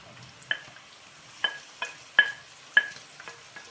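Meat and plenty of onion brown in a pan for buckwheat porridge, with soft frying and five or six sharp scrapes and clinks of stirring spaced about a second apart, close up and with no speech.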